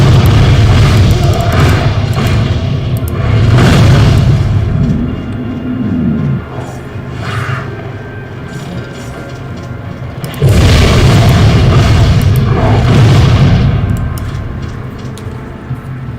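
Explosions from a blast cannon in the action game Torchlight 2 land as heavy, booming thuds in loud bursts, with a second big blast partway through over rumbling game noise.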